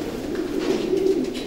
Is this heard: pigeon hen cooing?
yes